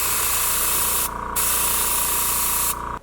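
Gelcoat top coat sprays heavily from a spray gun onto a glitter-flake bass boat repair, a loud, close, steady hiss with two brief dips where the spray cuts back before resuming.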